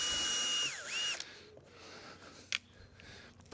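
A power driver undoes screws on the casing of a backpack sprayer, whining for about a second with a brief drop in pitch before cutting off, followed by a few faint handling clicks and one sharp knock.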